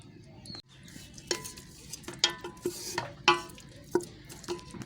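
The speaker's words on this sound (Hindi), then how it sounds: "अब हम इसको भूनेंगे अच्छी तरीके से।" Onion and spice masala roasting in a pan for a tinda chicken curry, with a low sizzle under repeated clinks and scrapes of a metal spoon against the pan.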